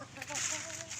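Backyard heritage chickens cluck softly in their coop, a brief low murmur of hen calls at moderate distance with no talking.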